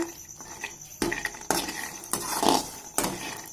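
Sprouts roasting in a home kitchen pan are stirred with a metal utensil, giving quiet scraping clinks and a few sharper knocks against the pan at irregular intervals.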